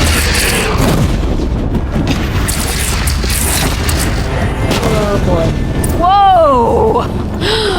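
A bridge shot down and collapsing in the video game Horizon Zero Dawn, a loud, sustained rumbling boom with crashing debris throughout, joined near the end by rising whistling tones, under game dialogue.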